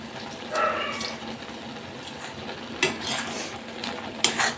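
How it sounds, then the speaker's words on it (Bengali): Boiled taro leaves are drained in a strainer basket in a kitchen, with faint watery rustling and a few scattered clinks and knocks of utensils at close range. "এই চুবড়িতে মান কচু পাতাটা ছেঁকে নিলাম"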